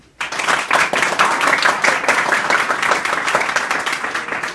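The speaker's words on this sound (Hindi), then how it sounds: "जोरदार ताली बजाओ" A burst of enthusiastic applause from a group, many hands clapping steadily at close range for several seconds.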